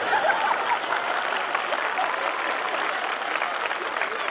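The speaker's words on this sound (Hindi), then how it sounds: "जब तक आप सारे लोग एक साथ तालियां नहीं बजाएंगे" Dense applause from a crowd at a live Bollywood night comedy-poetry show, steady and sustained throughout with a faint chuckle or murmur mixed in.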